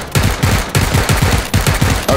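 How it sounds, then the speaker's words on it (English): Loud, rapid bursts of automatic gunfire in the video game PUBG, close-sounding shots rattling in quick rhythmic volleys with brief gaps between them. "are you getting shot at?"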